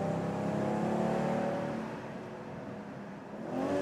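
A BMW M440i or Audi S5 accelerates on the German Autobahn, its engine a smooth, steady drone from inside the cabin that eases off briefly before building again.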